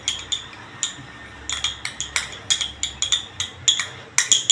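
A spoon stirs thick curd in a bowl, giving a quick series of close, sharp clinks and taps against the bowl in an uneven rhythm, with no talking.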